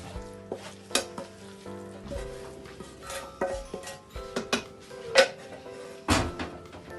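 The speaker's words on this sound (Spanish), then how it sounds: "vamos a agregar el sofrito. En este caso yo lo hice con jurel." Sofrito made with jack mackerel added to a pot of charquicán and stirred, with a soft sizzle under repeated clanks and scrapes of a spoon against the pot, close and without talk.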